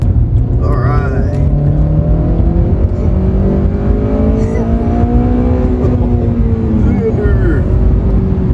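A turbocharged Honda Civic engine revs hard into VTEC, its loud, rising drone climbing in pitch and staying strong and close throughout.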